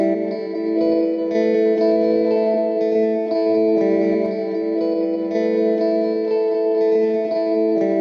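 A slow, sustained guitar phrase runs through the Spacefields looper app, swimming in heavy echo and chorus-like effects, notes layering and ringing together steadily and loudly, with no voices.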